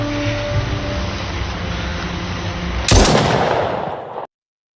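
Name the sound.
gunfire in a gangster film shootout scene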